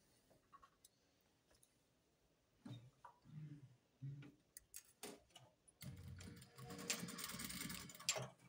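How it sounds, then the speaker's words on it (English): A sewing machine top stitches the edge of old-school safari shirt panels without pins; soft scattered clicks and handling sounds lead into a steady, fairly quiet stitching run near the end. "I'll just do a stitch here on the edge just to keep it nicely together."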